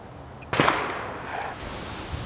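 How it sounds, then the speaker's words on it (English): Distant shotgun reports from shooters on a sporting clays course on a clear day, a single sharp crack followed by a long fading tail, faint and far off behind quiet ambient outdoor noise. "You can hear there's some people already ahead of us in the background shooting."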